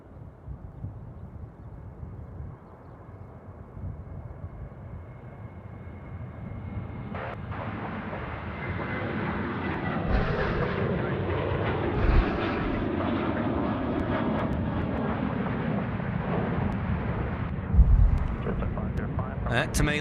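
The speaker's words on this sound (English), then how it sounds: "737 coming in left of screen, just about there." A Boeing 737 lands at Sydney Airport, its engine roar building from a distant rumble into a loud, broad jet wash that stays strong as it passes, with wind buffeting the microphone.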